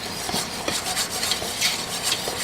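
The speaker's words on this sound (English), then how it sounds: "let me give that a little whisk and that'll melt in and start a blonde roux" Butter and flour being whisked into a blonde roux in a large pot for shrimp bisque, the whisk scraping and tapping against the metal in a quick, steady rhythm, fairly close and without talk.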